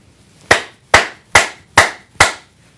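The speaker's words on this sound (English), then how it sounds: "I'm going to clap 5 times" Five sharp, evenly spaced hand claps made to sync audio and video, each a crisp close slap with a quick decay, alone in a quiet room.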